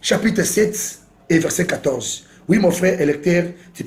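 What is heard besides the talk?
No distinct noise like a dog, phone or traffic.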